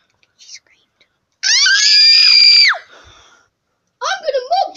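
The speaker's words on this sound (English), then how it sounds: "She screamed." A woman gives one loud, close, high-pitched scream lasting about a second, set between a brief earlier squeal and a burst of shrill voices afterward.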